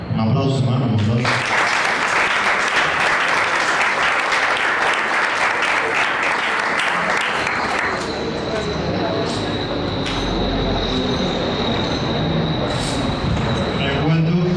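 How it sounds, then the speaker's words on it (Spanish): Congregation at a church service applauding, loud dense clapping that swells after a brief spoken start and carries on steadily, fading into a softer wash with scattered voices. "Un aplauso, hermano, un aplauso."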